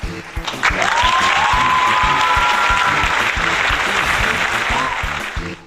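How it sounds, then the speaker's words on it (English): An audience applauds continuously at a news-style show, a dense wash of clapping that swells in quickly and holds steady, with a faint tonal whistle-like sweep over it. "Everyone give a round of applause for April O'Neil."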